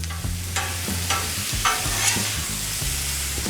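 Spicy shrimp stir-fry cooks in oil on a 36-inch Blackstone griddle, with a loud, continuous close sizzle broken by repeated spatula scrapes and stirring clatter, and no voices.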